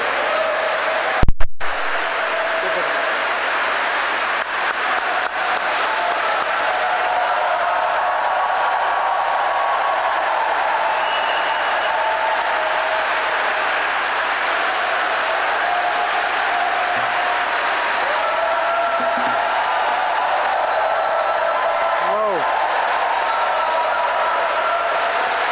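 Large audience at a memorial service for Mrs. Robert F. Kennedy applauding President Biden, a long sustained wash of clapping from a big crowd, steady and loud throughout with a brief sharp bump near the start.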